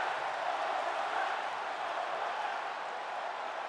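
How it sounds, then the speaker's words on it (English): Wrestling arena crowd noise in the WWE 2K25 video game, a steady dense roar of cheering spectators that holds at an even level throughout, fairly distant and moderately loud, with no clear voices. "Was the crowd shouting one more time at the end there?"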